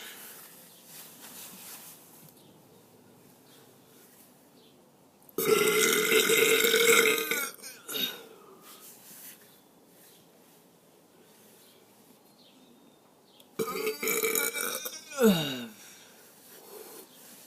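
Two loud, drawn-out human burps sound close up, each lasting a couple of seconds and rasping as they trail off, with quiet stretches of faint background noise around them.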